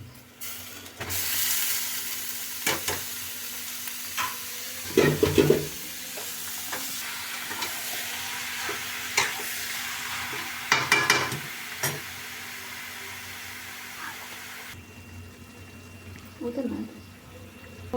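Ash gourd being stirred in a pan with fried coconut, giving a soft sizzle under repeated clattering scrapes of a utensil, with some watery sounds and occasional faint talk nearby.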